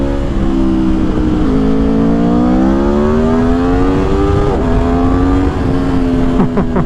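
Aprilia Tuono V4 Factory 1100 motorcycle engine revving high and steady, its pitch dipping and climbing through downshifts, loud and close throughout with no voices.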